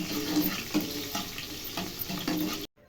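Green and dry chillies fry in hot oil with a continuous close hiss and sizzle, broken by small pops. The sound stops abruptly at the end.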